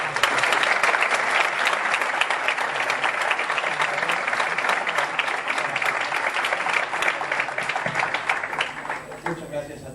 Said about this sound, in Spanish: Un fuerte aplauso a Agustín Laje, por favor.